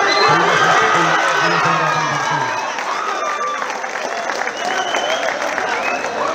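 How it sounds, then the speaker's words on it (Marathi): Crowd at a kabaddi match between Jay Hanuman Vaghode and Jay Bhavani Satirje on ground number 2 cheers and claps in a steady roar, with a voice talking over the first two seconds. "क्रीडांगण क्रमांक 2 वरती शिट्या टाळ्या जबरदस्त मॅच"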